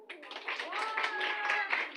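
Children at a summer Bible camp give a short burst of clapping, quick and fairly close, overlapping a few excited voices throughout the two seconds.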